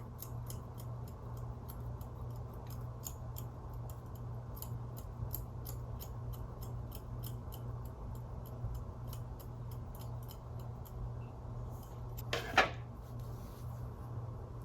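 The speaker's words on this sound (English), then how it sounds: "with my scissors facing up like this, just pointing it in and just cutting a nice straight line" Scissors snip through hair in a straight line during a home trim and layering, a steady run of quiet, close, crisp clicks over faint room hiss, with one louder rustle near the end.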